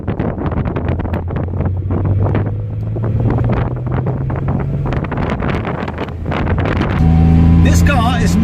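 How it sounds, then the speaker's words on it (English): A Porsche 911 Carrera Targa over 30 years old, its flat-six engine droning steadily while driving, with wind rush over the microphone and a rising engine note near the end. "Flat 6 sounds fantastic."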